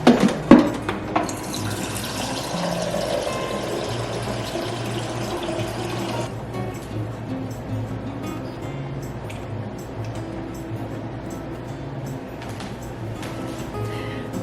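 Water runs steadily into a glass for several seconds, a continuous close splashing pour with a brief clatter at the start, then a quieter liquid trickle afterwards.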